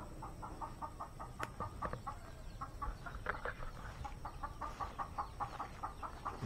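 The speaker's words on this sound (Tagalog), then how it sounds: "May mga manok din dito" Chickens on a small farm clucking in a steady run of short, repeated calls, fairly close, with light background noise and no talking.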